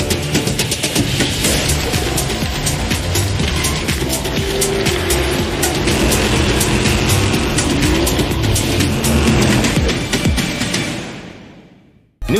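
Race car engines in Fortnite Rocket Racing: a continuous loud roaring engine drone with whooshing passes and tire noise, sustained for many seconds before abruptly fading out near the end.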